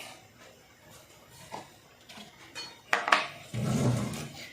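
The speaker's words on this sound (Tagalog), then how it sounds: "So ngayon, hugasan na natin yung kanin." Rice being washed in a pot: light clinks and scrapes of grains and metal, then a louder rush of sloshing water near the end, close up with no talking.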